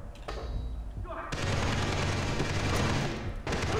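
Gunfire in the shooter video game Far Cry 3 comes as a few sharp shots early, then a dense, loud burst of rapid fire fills most of the stretch before a brief lull and more shooting.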